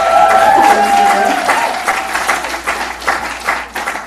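Audience at a women's benefit auction cheering and applauding, a dense wash of clapping and crowd noise that starts strong, then thins and tapers over a few seconds.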